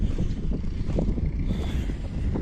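Strong wind buffets the microphone in a watermelon field during harrowing with a YuMZ tractor, a constant low rumble and roar, steady throughout with no voices.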